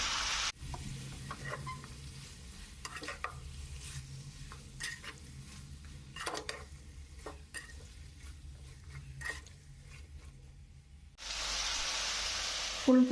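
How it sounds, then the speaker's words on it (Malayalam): Chicken pieces sizzle in hot coconut oil for a home-style chicken ularthu, with repeated scraping stirs of a spoon against the pan, then a louder, steady frying hiss near the end. "നന്നായി ഇളക്കി കൊടുക്കുക കേട്ടോ. വെളിച്ചെണ്ണയൊക്കെ എല്ലാ ചിക്കൻ കഷ്ണങ്ങളിലൊക്കെ ആവണം."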